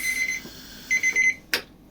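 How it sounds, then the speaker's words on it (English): Electronic alarm clock beeping in a kitchen during the final seconds of blanching onions for pickling, a steady tone followed by a run of short repeated beeps, ending with a brief clatter. "That's the alarm going off."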